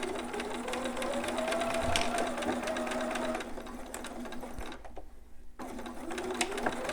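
Sewing machine stitching a newborn romper and running a back stitch, a steady fast mechanical whir that stops briefly near the end before starting again.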